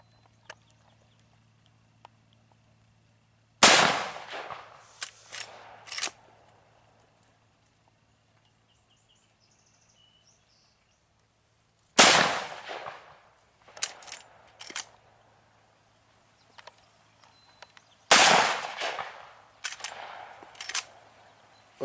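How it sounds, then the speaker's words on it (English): Gunfire at an outdoor shooting range: three loud, sharp shots spaced several seconds apart, each followed by a short cluster of quieter clatters and echoes, with no talking. "Last shot, I think."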